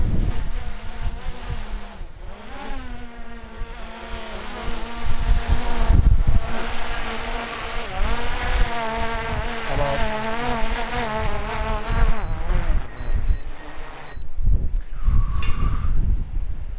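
A DJI Air 2S drone flying in 40 mph wind gives a continuous buzzing whine with shifting pitch, loud and steady throughout, with gusty wind noise underneath.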